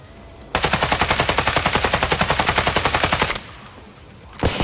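Rapid automatic fire from enemies in a shooter video game rattles loud and close in a long, evenly spaced burst, then cuts off, followed by a single sharp shot.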